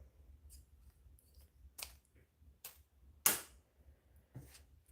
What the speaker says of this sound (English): I'm going to chop off the excess zipper.